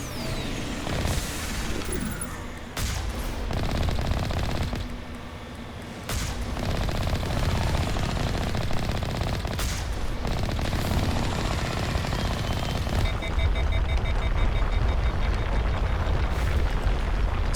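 Rapid gunfire from the Mako vehicle in the video game Mass Effect Legendary Edition, dense bursts of shots with heavy booming impacts running almost continuously over rumbling game sound.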